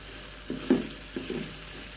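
Dried chillies frying and being stirred in a pan until dark and charred, with a low sizzle and two brief scraping stirs, close and fairly quiet.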